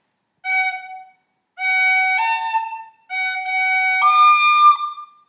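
A clear, tonal wind instrument plays sections 1 and 2 of the Irish tune The Rambling Pitchfork in three sustained phrases of held notes with short gaps, loud and close.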